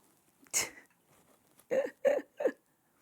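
A small dog sneezes four times, one sharp snort followed after a pause by three quick sneezes in a row, close and fairly quiet in an otherwise calm room.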